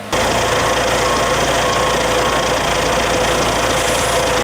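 A combine harvester built to hold eight tonnes of grain runs steadily at close range in a Donetsk region field, its engine a loud, constant drone with no voices over it.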